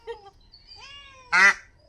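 Egg-laying domestic ducks give a short run of quacks: a few softer calls early on, then one loud, harsh quack close by near the end, with no talking.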